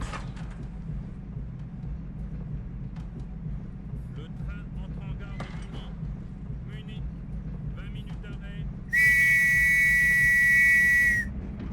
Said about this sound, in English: Yep, it's a whistle.